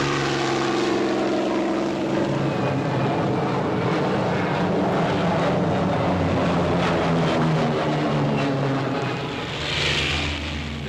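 Twin 2,000-horsepower piston engines of a Northrop P-61 Black Widow night fighter drone steadily and loudly throughout, a continuous propeller roar with layered harmonic hum that swells slightly near the end.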